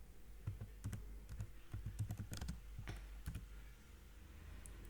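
Typing on a computer keyboard in Microsoft Word: a steady run of close, crisp key clicks with uneven rhythm, loudest in the middle and thinning toward the end, with no voices.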